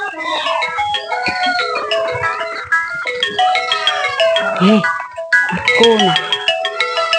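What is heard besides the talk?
phone ringtone ringing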